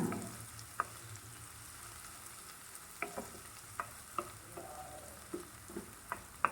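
Prawn masala with a spoonful of coconut pieces sautéing in a pan, a soft steady sizzle underneath with scattered sharp ladle taps and scrapes that grow more frequent toward the end.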